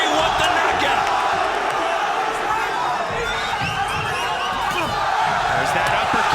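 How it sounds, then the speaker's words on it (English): Fight crowd at a GLORY kickboxing event roars steadily, cheering and urging on a fighter chasing a knockout, with a dense, continuous wall of voices and shouts throughout. "This crowd urging Badr on. They want the knockout."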